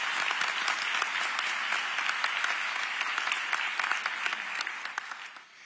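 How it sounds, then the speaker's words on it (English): Audience applause at a Raleigh Police Department academy graduation ceremony, a dense, steady wash of many clapping hands that holds strong and then tapers off at the end. "Can we give her a round of applause for her leadership for RPD?"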